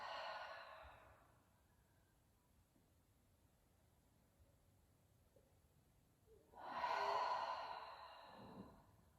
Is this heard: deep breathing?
yes